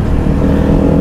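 A motorcycle engine roars loud and close in a short, continuous burst with no voices over it.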